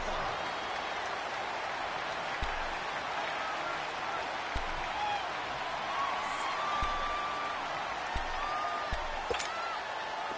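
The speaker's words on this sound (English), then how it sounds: "the crowd getting into it as we come up on a big 3rd down" Stadium crowd in a PS4 American football game building into a broad, sustained roar ahead of a big third down, with a few sharp thumps and whistle-like tones under a steady wash of cheering.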